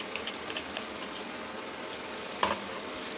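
Marinated paneer pieces frying in a pan, a steady soft sizzle throughout with a few faint clicks of pieces being turned.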